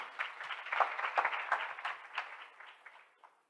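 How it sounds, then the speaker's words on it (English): An audience at a live-streamed group event applauds warmly for a woman, with fairly close clapping that swells and then fades out toward the end. "Please give her a warm applause again."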